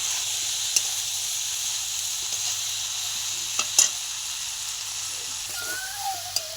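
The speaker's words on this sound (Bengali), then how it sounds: "আরও আমি ভালো করে কষিয়ে নিয়ে তারপরে জল দেব" Meat and papaya sizzle steadily in a pan while being sautéed, a constant bright frying hiss with a few soft clicks and scrapes of stirring, close up and with no talking.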